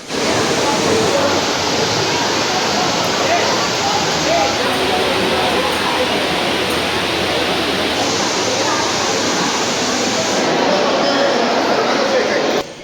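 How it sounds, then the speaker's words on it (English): Steady, loud rush of cascading water from an indoor waterfall in a UAE shopping mall fills the space without a break, a constant roaring hiss echoing in a large interior. "a beautiful indoor waterfall where people like taking pictures"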